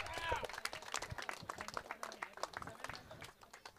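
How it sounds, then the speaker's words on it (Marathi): Audience applause at a cricket tournament prize distribution ceremony, honouring two brothers, Prabhat and Pralay Bawkar; fairly faint, scattered clapping runs for a few seconds with voices over it. "प्रभात बावकर आणि प्रलय बावकर साठी जरा मित्रांनो एकदा जोरदार टाळ्या."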